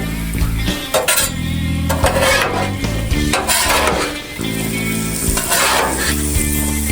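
Shrimp sizzling on an Aldi griddle while being stirred, a steady loud fry hiss broken by scraping and clinking of a utensil against the hot surface.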